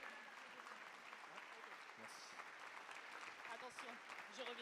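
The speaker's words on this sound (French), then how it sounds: "réservez-leur un tonnerre d'applaudissements à ces 5 garçons de Légitime Obstruction" A crowd applauds a five-boy breakdance group, champions of France, at a sports awards ceremony, a steady dense wash of clapping that holds throughout and fills the hall.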